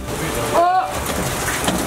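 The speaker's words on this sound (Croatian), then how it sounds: "Tuča pada!" Hail falls on a rooftop with antennas during a storm, a dense steady patter of stones striking the surface close by, while a voice cries out briefly over it.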